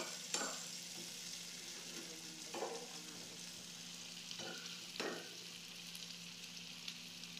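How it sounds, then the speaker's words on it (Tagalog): Tomatoes sizzle quietly in a pan, with a steady soft frying hiss and a few distinct scraping stirs spaced a couple of seconds apart, heard close but low in level. "sinalo-halo ang kamatis"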